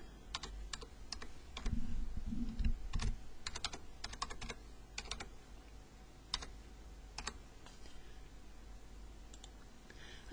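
A computer keyboard typed in irregular bursts of quick, light clicks, close and fairly quiet, with brief pauses between runs of keystrokes and no talking.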